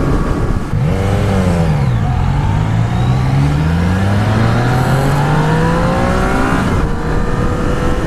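A Yamaha XSR900 motorcycle engine revving hard under acceleration, its pitch climbing steadily through the gears with brief dips at the shifts, loud and continuous with a steady rush of wind noise.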